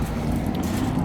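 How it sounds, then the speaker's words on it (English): Steady low rumble of traffic from a nearby main road, heard outdoors beside a tunnel house, a continuous broadband roar with wind-like buffeting and no distinct vehicles picked out. "Apologies for the traffic noise, but you can't do much about that."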